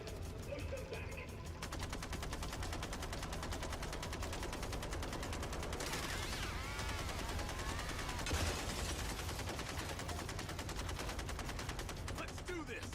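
Sustained automatic gunfire rattles through a MindsEye firefight, loud and relentless over a thick bed of battle noise, with layered rifle bursts overlapping for the whole stretch.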